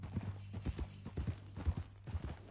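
Horse hooves clip-clopping at a walking pace in the Red Dead Redemption 2 game, an irregular series of soft thuds close by with no voices over them.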